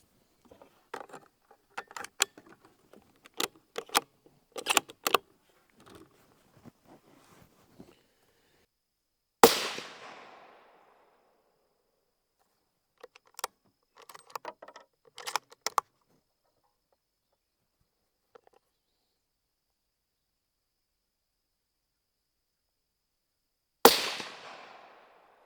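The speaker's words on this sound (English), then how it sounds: "let's go ahead and take a few shots at 100 yards here" Rifle shots are fired at a target 100 yards away, heard as sharp, isolated cracks spaced several seconds apart amid scattered faint clicks and handling noise, with quiet gaps between and no speech.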